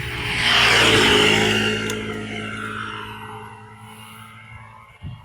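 A motorcycle engine keeps running close by, a steady low idle that swells loudly early on, then settles and fades, with a brief knock near the end.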